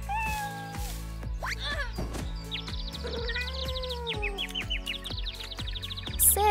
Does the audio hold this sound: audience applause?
no